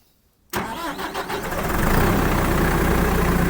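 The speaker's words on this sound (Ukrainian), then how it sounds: "будемо моторити тракторець після заміни масла, фільтрів. Зараз почуємо" A tractor's diesel engine, just serviced with fresh oil and filters, cranks and catches after a brief quiet moment in a field, then settles into a loud, steady idle rumble close by.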